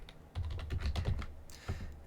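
Someone types a short name on a computer keyboard during a Linux setup in VirtualBox, a quick burst of close, light key clicks followed by a brief pause and a couple more taps.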